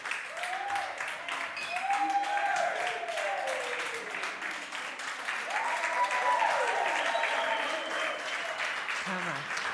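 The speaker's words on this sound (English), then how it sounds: "We'd like to all applaud you" Sustained audience applause fills the room, steady and fairly close, while a voice talks over it at times.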